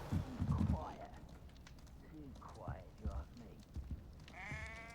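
A sheep bleats a few times amid talking in Hogwarts Legacy, with light clip-clop footsteps and background game ambience.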